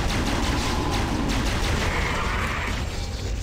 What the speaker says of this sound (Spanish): Me quedan 5 tiros con el cañón Hunter.